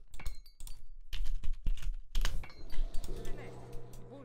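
Computer keyboard keys tapped as shortcuts while playing Age of Mythology Retold, a quick run of close, crisp clicks mixed with game sounds and someone talking over them.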